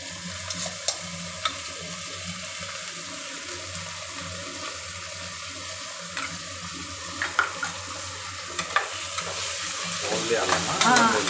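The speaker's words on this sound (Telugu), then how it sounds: "ఇట్లా ఏగుతా ఉంది కదా" Ginger-garlic paste fries with cashews in a pan, sizzling steadily beneath repeated spoon scrapes and knocks, the bubbling rising louder near the end.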